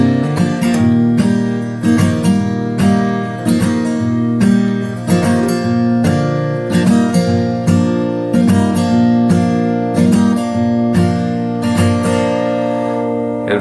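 Acoustic guitar plays the bridge of a song with pull-offs, a steady strummed and picked pattern, loud and close throughout with no talking.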